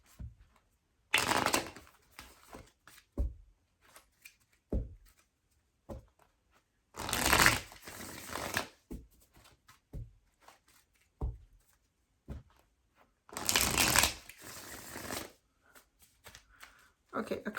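A Wild Unknown Animal Spirit Oracle card deck is shuffled in three loud riffling bursts spaced several seconds apart, close to the microphone, with scattered soft handling taps and speech in between.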